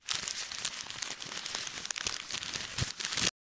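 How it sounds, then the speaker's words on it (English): Notebook paper scrunched up by hand, a continuous close crinkling and crackling for a few seconds before cutting off abruptly. "I'm just going to record a few seconds scrunching up some notebook paper."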